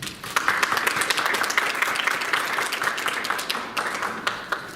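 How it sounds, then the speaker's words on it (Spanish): Strong audience applause greets a speaker at a seminar, a dense burst of many hands clapping with sharp individual claps standing out, sustained for nearly five seconds without talk. "Lo recibimos con un fuerte aplauso."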